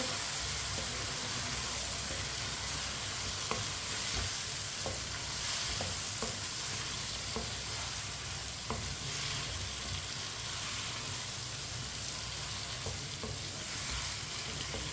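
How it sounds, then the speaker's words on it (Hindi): Chopped tinda (apple gourd) being stirred in a frying pan, giving a steady, close hiss of sizzling with scattered light spatula taps throughout and no voices. "टिंडे डाल लेंगे, अच्छी तरह मिक्स कर लेंगे।"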